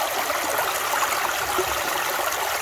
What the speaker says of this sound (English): This here place, Honeysuckle Creek right here in West Virginia